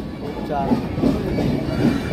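A train rumbles past on the tracks with rhythmic clattering, while people talk nearby over the noise.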